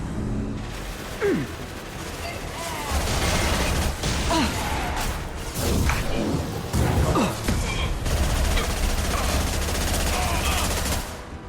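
Gunfire in the Mass Effect video game, rapid bursts of automatic fire mixed with shouted combat voices over a constant dense battle din.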